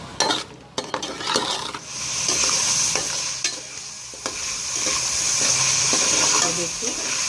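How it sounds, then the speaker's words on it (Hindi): Chicken pieces being stirred with white pepper, black pepper and salt in a hot pan for Arabian rice, steady sizzling frying with repeated scraping strokes of a spoon, close and continuous. "अच्छी तरह हम इसे मिक्स कर लेंगे।"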